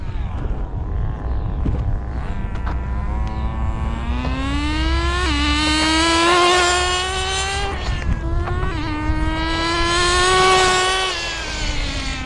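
A Kyosho FW-06 two-speed nitro RC car engine, still running rich while warming up, screams with a high buzzing whine that climbs and rises in pitch, dropping back and surging again as the car speeds up, loud and close.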